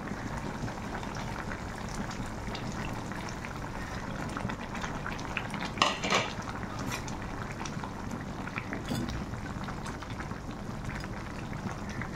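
Curry in a covered pot bubbles at a rolling boil, a steady dense wash of bubbling and hiss that holds even throughout, with a brief louder flutter partway through; no voices.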